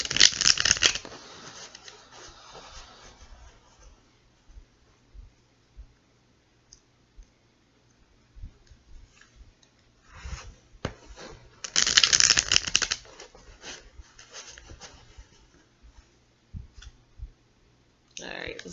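Two bursts of riffling tarot card shuffles, one at the start and a longer one in the middle, with soft handling clicks and quiet pauses between.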